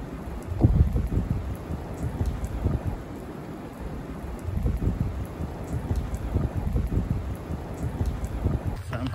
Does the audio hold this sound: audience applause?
no